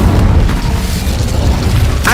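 Incendio fire spell cast in Hogwarts Legacy, a loud booming whoosh of flame that rumbles steadily, with a sharp bright burst near the end.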